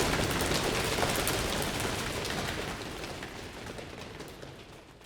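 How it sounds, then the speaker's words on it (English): A two-bar thunder effect from the Chorus FX plugin: a broad rumbling, crackling wash that starts loud and gradually diminishes over several seconds, heard alone. "Let's take a look at the 2 bars thunder."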